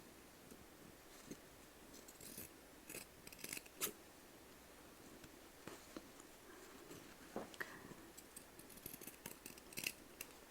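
Scissors snip through the shoulder seam of a garment at close range, with a series of quiet, crisp cuts in irregular clusters and faint rustling of fabric between them, with no talking.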